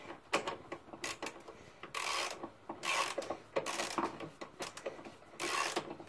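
Ratchet tightening bolts on a Mazda 323F gearbox, bursts of quick metallic clicking repeated in short strokes with pauses between, close and fairly quiet, no talk.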